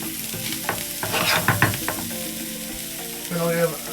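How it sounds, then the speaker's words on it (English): Smoked paprika sizzles in a frying pan as it is stirred around, with soft scraping and crackling close by and no talking. "Give that a little stir around."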